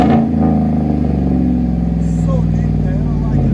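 Deep, steady rumble of a Chevy Silverado's 5.3L V8 with aftermarket exhaust, loud and sustained, with people talking over it.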